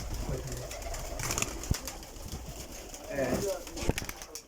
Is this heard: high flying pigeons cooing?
yes